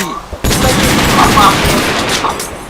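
Gunfire in a Minecraft game, a dense continuous fusillade of rapid shots filling the whole clip after a brief quiet start, mixed with voices talking over it.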